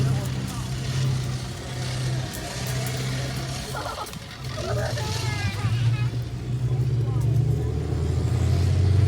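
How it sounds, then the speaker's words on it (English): A Warrior infantry fighting vehicle drives at a tank show, its heavy engine drone steady and close with rising rumble toward the end, while a voice talks over it. "So you can see Warrior is a very fast mobile vehicle for delivering the soldiers"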